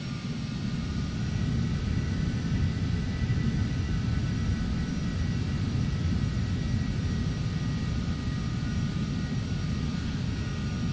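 Airliner lining up on runway 07 at Luton in the Prepar3d v5 flight simulator, with a steady loud jet engine rumble and hum running throughout, no talk.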